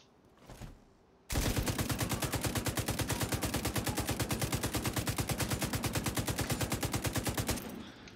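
A long unbroken burst of automatic fire from a big-magazine gun in The Division 2, rapid evenly spaced shots hammering loud and close for about six seconds after a brief quiet lead-in, then stopping abruptly.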